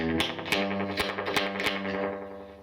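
An electric guitar plays a few sustained, slightly out-of-tune chords through a Raven guitar amplifier, the notes trailing off in a washy reverb.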